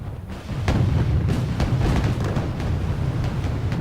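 Missile volley and explosions from ships in the naval battle of Wargame: Red Dragon: a steady, loud low rumble with repeated sharp bursts and booms throughout.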